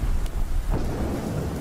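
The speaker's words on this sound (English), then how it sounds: "Ooh, look at the rain." Steady rain hiss with low rumbling thunder during a Godzilla versus Destoroyah fight scene, a dense continuous storm bed with a faint brighter crackle near the start.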